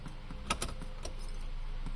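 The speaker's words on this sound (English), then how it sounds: "in go the keys" Car keys jingle and click as they go into the ignition of a Ferrari GTS under rebuild, a few sharp metallic taps up close over a low steady hum.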